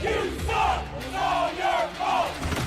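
A crowd cheering and yelling in loud, repeated surges, several swelling shouts in quick succession.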